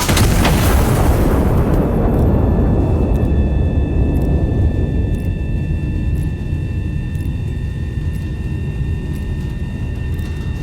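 A single massive artillery blast from the Iron Nest game opens loud and close, then a long deep rumbling roll fades across the rest, with faint high tonal hum lingering behind.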